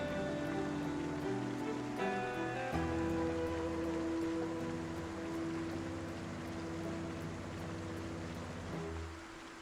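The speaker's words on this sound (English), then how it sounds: "Maybe this will stop raining." Steady rain falls in the Project Zomboid video game, a continuous patter under sustained tonal game music with faint periodic ticks, no voices.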